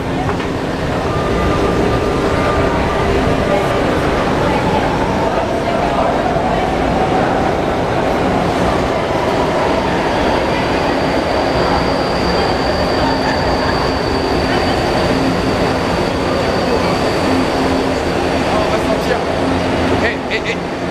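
A São Paulo metro train rumbles continuously throughout, with a steady low roar, faint wheel squeal and occasional clacking, loud and close as if heard from inside the car.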